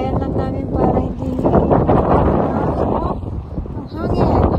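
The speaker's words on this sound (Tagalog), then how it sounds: "Mahangin siya, ante." Gusts of outdoor wind rumble and buffet against the microphone, swelling and easing in loud bursts while people talk nearby.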